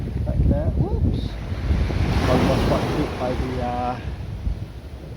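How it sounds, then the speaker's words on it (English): Ocean waves pound against rocks on a beach at Sungai Rengit, a constant loud rushing surge with wind buffeting the microphone and voices talking over it. "Almost got hit by the waves that is pounding."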